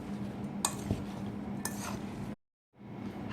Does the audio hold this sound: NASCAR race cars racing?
no